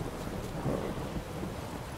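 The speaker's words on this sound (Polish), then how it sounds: "ale cały czas deszcz pada." Thunder rumbling low and heavy over steady rain in the video game The Witcher 3, a dense continuous wash of rainfall with a deep swell of thunder, fairly loud and without talk over it.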